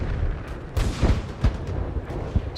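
World War I artillery guns firing near the end of the war in November 1918, heard as a dense, noisy old recording with several deep booms rising out of a continuous rumble.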